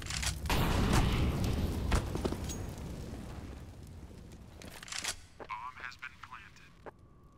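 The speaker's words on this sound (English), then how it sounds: "We have flash. Flashbang." Flashbang grenade going off in CS:GO, a loud burst followed by a rough decaying noise, with further game effects and a player talking over it.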